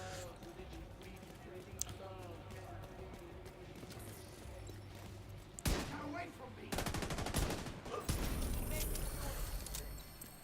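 Gunfire and explosions in The Division 2 video game: rapid bursts of automatic fire and sharp shots crackle across the scene, heavier volleys and blasts toward the end, with people talking over the action.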